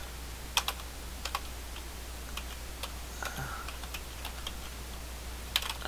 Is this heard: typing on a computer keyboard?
yes